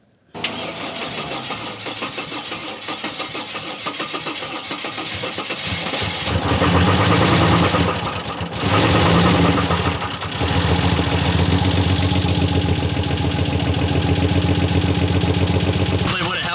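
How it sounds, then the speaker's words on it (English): A turbocharged Nissan Terrano engine parked on the street cranks over and catches, settling into a loud, rough, steady running note after several seconds of cranking. "we'll crank it over and see what happens"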